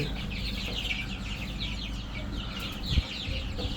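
Young chickens about 24 to 25 days old on a tiger-breed poultry farm, keeping up a continuous nearby chorus of chirps and soft clucks.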